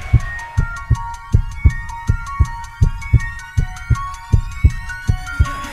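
Heartbeat sound effect in a podcast jingle, a steady regular thump-thump pulse of about two beats per second, loud and close, layered under a sustained bright synthesized tone.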